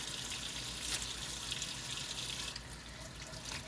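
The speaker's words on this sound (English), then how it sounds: "just gonna rinse them really good" Tomatillos rinsed under running tap water in a kitchen sink, a steady broadband splashing and trickling that continues throughout without speech, shifting slightly partway through.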